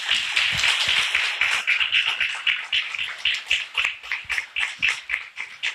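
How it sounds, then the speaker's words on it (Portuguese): A church congregation claps for Jesus at a talk on liturgy, a loud, crisp, rhythmic round of many hands that grows more even and pulsed toward the end. "eu queria que você pudesse aplaudir Jesus"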